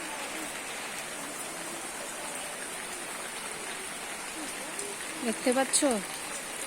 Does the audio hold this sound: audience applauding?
no